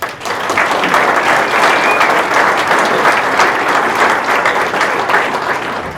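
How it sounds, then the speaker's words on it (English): Sustained audience applause at a county-wide breakfast gathering, a dense, loud, steady wash of many hands clapping that holds evenly throughout and thins slightly at the end. "How about a big round of applause?"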